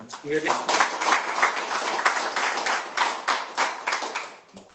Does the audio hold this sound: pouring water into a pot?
no